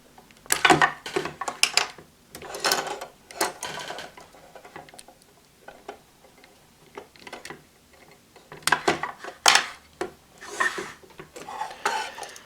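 Plastic pieces of a Shinkalion toy robot are pulled off and handled, giving bursts of clicks, snaps and rattles separated by quiet pauses.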